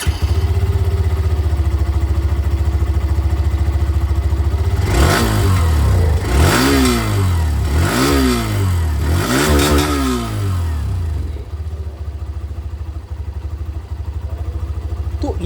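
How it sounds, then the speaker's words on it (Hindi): A Hero Xtreme 125R dual-channel ABS motorcycle idles loudly up close, then its exhaust revs in four quick rising-and-falling blips before settling back to a steady idle, with no talking. "ये जो नई dual channel ABS version I है इसी की जो एग्जॉस्ट साउंड है वो मैं आप लोगों को सुना देता हूँ पहले।"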